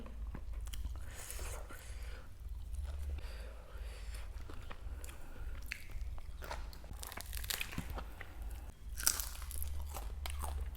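Close, crisp crunching and chewing of Thai green bean salad eaten with crispy fried fish, steady bites and mouth sounds running throughout with a sharper crunch near the end.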